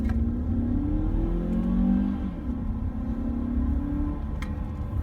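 A Mazda 3 engine, 2.0L or 2.5L, revs up and blips through paddle-shift downshifts from inside the cabin, a steady mid-pitched drone that rises and falls with no talk over it.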